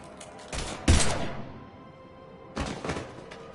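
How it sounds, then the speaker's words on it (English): Gunfire in Mass Effect 3: two clusters of loud, sharp shots, the first a rapid burst peaking near the start, a second volley after a short pause, with a low rumble between. "Now open fire!"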